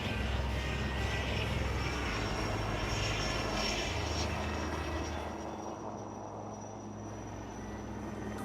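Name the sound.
Sarang helicopters and Suryakiran jets flying at Aero India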